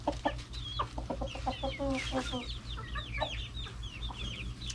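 Chickens cluck and chatter in a backyard coop as new birds join an established flock, with repeated close calls and bursts over a steady low hum.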